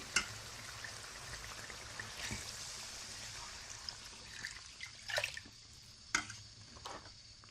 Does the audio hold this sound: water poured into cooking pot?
yes